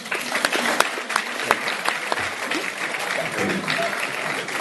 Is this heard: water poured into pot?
no